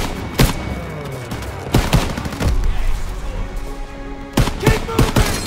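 Automatic gunfire from machine guns in a barn during a Normandy battle in Call of Duty WW2, sharp loud bursts at intervals over a dense rumbling battlefield din.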